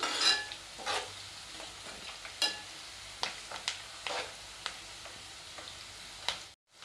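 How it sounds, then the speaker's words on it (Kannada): Ingredients fry in oil over a low gas flame, giving a quiet, low sizzle. Intermittent stirring scrapes and small clinks from a spoon against the pan sound close and sparse. "ಇದರದ್ದು ಕಲರ್ ಚೇಂಜ್ ಆಗುವವರೆಗೂ ನಾವು ಇದನ್ನು ಫ್ರೈ ಮಾಡ್ಕೊಳ್ಳೋಣ ಗ್ಯಾಸ್ ಒಂದು ಸ್ವಲ್ಪ ಸ್ಲೋ ಇಡ್ರಿ"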